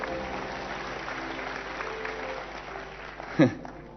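Church congregation clapping at a packed service, a steady mass of applause with one louder thump near the end.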